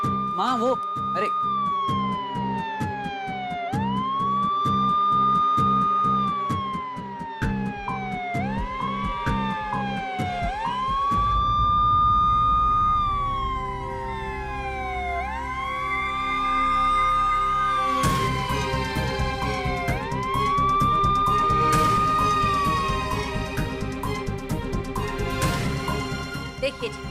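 A phone ringtone mimics a wailing siren, rising and falling over and over, loud and insistent, with other busy sounds joining partway through.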